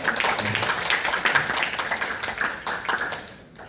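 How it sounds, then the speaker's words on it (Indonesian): Audience at a student association chair candidates' public hearing applauds steadily, a dense wash of many hands clapping that holds for several seconds before thinning and fading near the end. "Boleh minta tepuk tangan teman-teman?"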